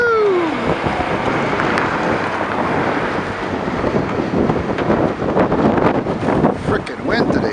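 Strong wind buffets a microphone outdoors near an old MCI coach with a Detroit Diesel 8V92T engine, a loud constant rumbling roar that swells and gusts throughout, with faint voices underneath.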